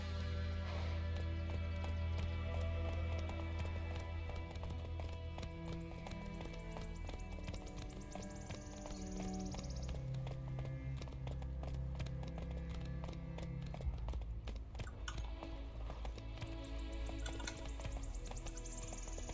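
Roach, Geralt's horse in The Witcher 3, trots steadily with a rhythmic clip-clop of hooves under a constant bed of game music, continuing close and even throughout with no pauses.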